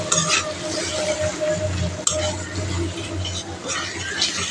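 Spiced fish with turmeric and chili is stirred in a pan, making a constant close sizzle with a scraping stir and one sharp clink partway through, and no speech.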